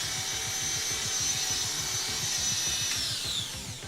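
Electric hair clippers with a 1.5 guard buzz steadily and close up while tapering a home haircut, a continuous motor hum with a rhythmic pulsing texture and no talking.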